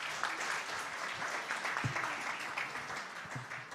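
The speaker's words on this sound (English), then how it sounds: "Big round of applause" A crowd at a startup awards ceremony applauds, dense clapping that carries on through the whole short stretch at moderate volume.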